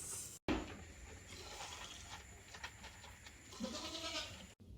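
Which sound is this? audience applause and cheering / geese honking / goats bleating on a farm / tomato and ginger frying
goats bleating on a farm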